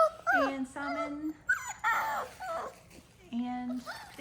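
Large doodle puppies whimper and whine in a string of short, rising high-pitched cries, close and fairly loud, with brief pauses between calls and no talking.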